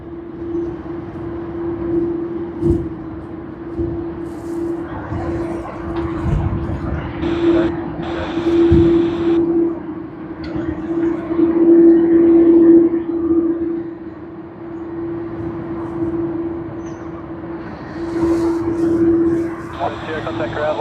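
A Qantas Airbus A330 airliner at Sydney Airport, heard as a steady engine drone with a sustained tonal hum that swells and fades, mid-distance, under a talking voice and radio chatter.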